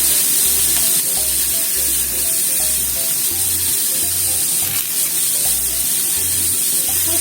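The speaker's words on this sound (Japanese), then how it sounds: "ちょっと炒めますよ。" Sweet potato stir-fried in a pan for kinpira, a steady close sizzle and crackle of frying with soft stirring scrapes, alone with no talk.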